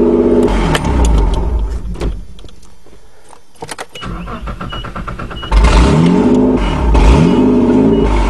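A 1986 Nissan 4x4 truck engine is started in gear with the clutch pushed in, after a stuck clutch. It cranks, catches and runs loud and close, with strong revving surges toward the end.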